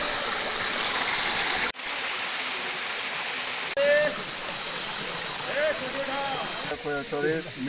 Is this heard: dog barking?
no